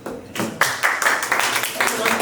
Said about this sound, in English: let's give a round of applause to Claudio